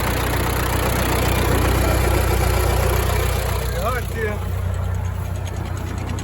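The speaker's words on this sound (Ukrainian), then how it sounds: "Тракторець працює" A YuMZ tractor engine runs steadily at idle, a continuous low throbbing drone that stays loud and close throughout, with no talk over it.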